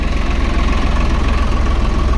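A Swaraj 855 ABC tractor engine runs in third low gear, a loud, steady low rumble with a rapid, even pulsing throb and no voices.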